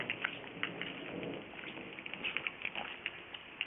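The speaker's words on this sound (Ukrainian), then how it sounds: "Грім гримить." Rain falling steadily outdoors with faint distant thunder underneath, heard as a continuous close patter with scattered louder drops and no voices.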